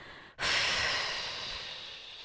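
A long, forceful exhale during a flat-belly and pelvic-floor workout: a brief quiet, then a strong breathy rush of air that slowly fades, close and alone.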